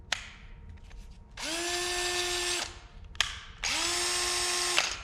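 Cordless drill motor spinning up at its higher top-speed setting 2, two loud sustained whirring runs of about a second each, each rising in pitch and then holding steady before cutting off, with a short trigger click between them.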